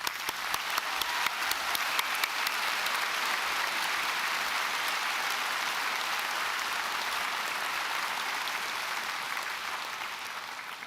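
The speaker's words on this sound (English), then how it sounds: "We'll give them a big round of applause." Sustained audience applause at a university graduation ceremony in a hall, a dense, even wash of clapping that holds steady for about eleven seconds and thins slightly at the end, with no voices.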